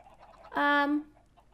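Chicken in a backyard coop gives a single loud, drawn-out squawk lasting under half a second, close by against faint background sounds.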